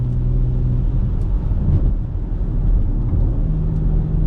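A BMW X3 M fitted with a loud aftermarket exhaust gives a deep, continuous rumble that stays loud and steady throughout, with no talking.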